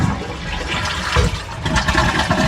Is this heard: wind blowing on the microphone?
no